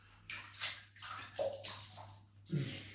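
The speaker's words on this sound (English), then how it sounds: "Okay, let's wet the face." Water splashes while a face is wetted before shaving, heard as close, quiet bursts of sloshing and dripping in several short separate splashes over a low steady hum, with no talk.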